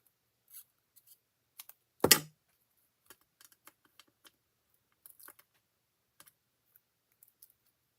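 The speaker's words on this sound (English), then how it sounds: "Snip that off." Scissors snip through cardstock paper in one crisp, close cut, surrounded by faint scattered ticks and paper handling in an otherwise quiet room.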